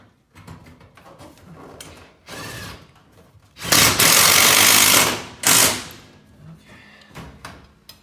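A power driver runs screws into a metal industrial ceiling in several short bursts, two of them long and loud, between quieter handling clatter and taps. No one speaks.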